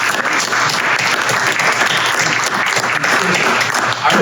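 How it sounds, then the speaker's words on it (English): A room at a city charter reform committee meeting breaks into sustained applause, with dense, steady clapping from many people lasting about four seconds. "Can we give a round of applause?"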